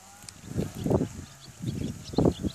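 Several short bleats from a sheep, close by, rising and falling in a few bursts against quiet outdoor background.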